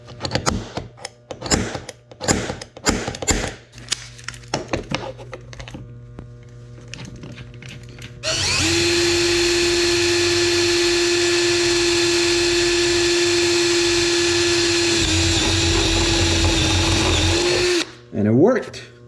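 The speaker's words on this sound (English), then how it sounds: "mark where I need to drill a hole." A power drill with a step bit runs steadily for about ten seconds, loud and close, a sustained whine boring a hole in a 3rd-gen 4Runner, after some scattered clicks and handling noises.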